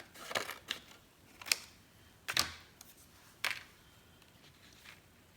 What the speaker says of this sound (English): Okay, I'm going to use my scissors.